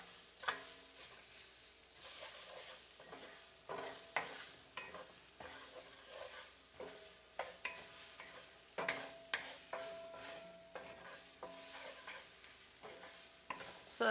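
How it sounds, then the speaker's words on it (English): A spatula stirs eggplant stir-fry in a pan, scraping and knocking repeatedly in an uneven rhythm over a faint, steady sizzle, close and fairly quiet. "You gotta make sure you stir it quite well."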